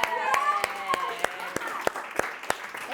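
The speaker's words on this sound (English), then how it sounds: "Big round of applause." Scattered, evenly spaced hand claps from a small audience at a fundraising conference ring out in a steady rhythm beneath a speaking voice.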